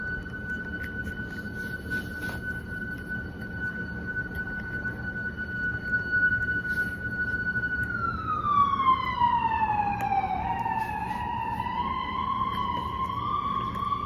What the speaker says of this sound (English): I don't know what kind of siren that is.